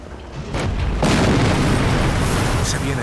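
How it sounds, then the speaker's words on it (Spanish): Deep booming explosion from the PS3 game Captain America: Super Soldier, a loud sustained rumble swelling after a brief softer lead-in and holding for several seconds. "Otra explosión y ya estará."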